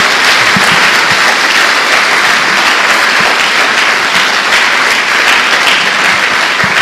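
A church congregation claps together in sustained, dense applause, a steady even roar of many hands that carries on without a break.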